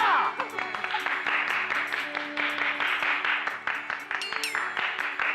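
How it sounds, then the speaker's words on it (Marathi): An audience at a 75th birthday celebration in a Marathi TV serial claps in a dense, continuous round of applause with voices mixed in underneath. "टाळ्या!"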